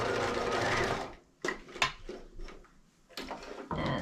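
A sewing machine stitches piping onto a capelet in short runs, a steady whirring burst followed by quieter clicks and handling taps, then another stretch of stitching, close and clear.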